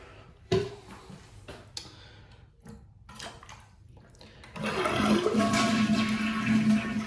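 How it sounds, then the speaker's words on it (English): An old household toilet is flushed with its water shutoff valve closed: a few quiet handle clicks and rattles, then a loud, close rush of draining water that carries on to the end. "go ahead and flush the toilet, if it'll flush"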